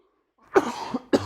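A single loud, close cough, with a second shorter cough coming about half a second later, in a quiet indoor podcast setting.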